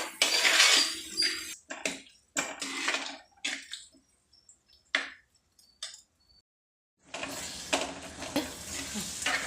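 Tomato gravy sautéed with salt in a pan for prawn thokku, a stirring scrape and soft sizzle in bursts broken by quiet gaps, then steady frying sound near the end.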